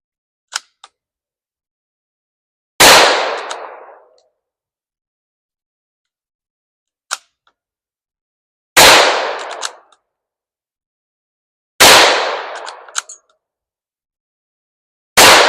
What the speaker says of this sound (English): We're going to try and shoot the clay in different spots so we can compare the 4 rounds.